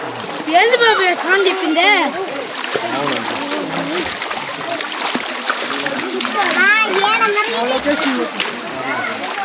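Penchalakona waterfall splashing and rushing nearby at a picnic spot, a constant broadband wash of water almost buried under several voices, including children, talking loudly over it.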